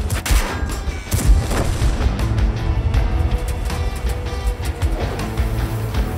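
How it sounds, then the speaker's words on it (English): World of Tanks WZ-114 tank with a 130mm gun, firing amid dense battle noise: loud booming shots and rumbling explosions over a continuous roar, several sharp blasts spread across the span. "Its 130mm caliber gun causes 530 HP of damage per shot."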